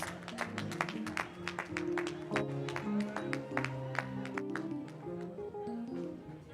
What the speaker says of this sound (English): Please give her a big round of applause for 20 wonderful years of service.